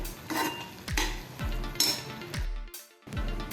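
A spoon scrapes and clinks steadily around a pan of carrot halwa as cardamom powder is stirred in, with soft sizzling underneath; the strokes come close and rhythmic, about one per half second, with no talking.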